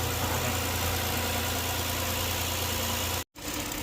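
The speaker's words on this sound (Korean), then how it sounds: "시동을 좀 걸어 놓으니까 예, 다시 부조를 시작하는데" A Kia K7 3.0 LPI engine idles roughly with a misfire, a loud, steady low mechanical drone with continuous vibration, heard close and alone with no talk and a brief dropout near the end.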